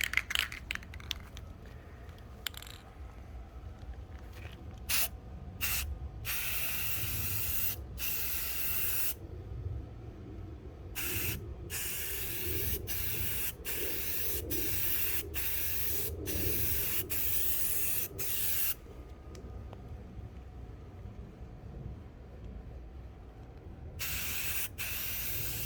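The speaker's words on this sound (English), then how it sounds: "It's time to put the first coat of primer so I can kind of see what the surfaces look like." Spray gun laying down the first coat of primer on a Smart car body, a steady close hiss broken by frequent short pauses and restarts as the trigger is released and pulled again.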